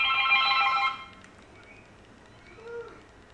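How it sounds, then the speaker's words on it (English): A telephone rings near the start, a loud warbling electronic ring lasting about a second, followed by a quiet room with faint background tones. "Phone's ringing."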